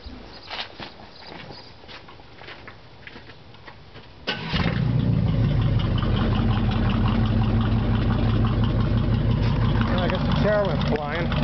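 A 1994 Chevy truck, straight piped with chrome tips, cranks and fires at once into a loud, rumbling idle; quiet shuffling and handling noises come before the start, then the near, steady exhaust drone continues.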